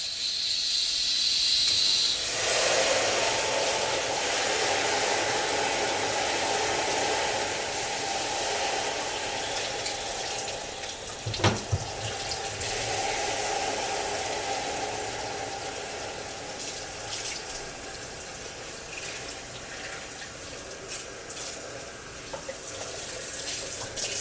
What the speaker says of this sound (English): By taking it to the sink and dumping cold water on it.